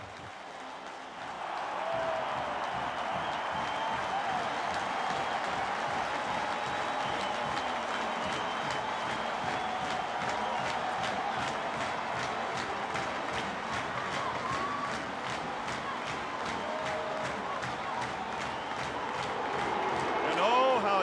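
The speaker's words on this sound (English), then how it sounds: "Another sellout crowd at Neyland Stadium, home to the Tennessee Volunteers." A sellout crowd roars in a large college football stadium, Neyland Stadium, at a 2001 Georgia versus Tennessee game, a loud, sustained wash of cheering that swells near the end, with a commentator talking over it.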